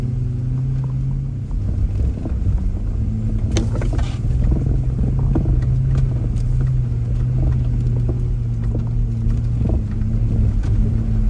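An off-road vehicle climbs a trail in low gear, its exhaust a steady, deep rumbling drone with occasional clunks and knocks from the rough ground.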